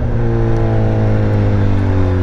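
A BMW S1000R motorcycle accelerating on a road between São Bento do Sul and Campo Alegre: a loud, steady engine drone climbing gradually in pitch with strong wind rush, heard from the rider's position.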